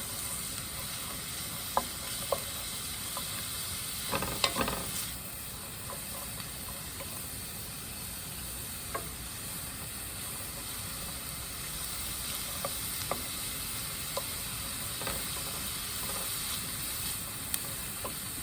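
Greens stems and onions fry in a pan with a continuous soft sizzle and occasional light pops and stirring scrapes, heard close and alone.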